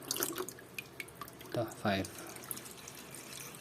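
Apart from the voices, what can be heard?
water filling a container for seedlings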